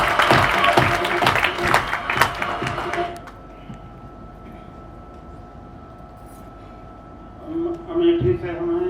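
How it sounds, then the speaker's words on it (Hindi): Audience applause with distinct claps bursts loudly for about three seconds, then stops abruptly, leaving a quiet room with a faint hum before a voice speaks near the end. "एक बार जोरदार तालियां"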